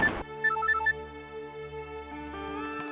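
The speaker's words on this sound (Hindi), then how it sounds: "रणवीर का फोन है।" In a Hindi TV drama, a mobile phone ringtone plays a short, bright melodic pattern of electronic beeps over a steady dramatic music bed, fairly close and clear, with no one talking.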